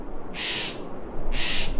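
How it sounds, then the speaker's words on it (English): Steller's jays in a Vancouver Island forest squawking at an owl, two loud harsh calls a second apart over steady outdoor background noise. "there's a bunch of Stellar's Jays like squawking at it"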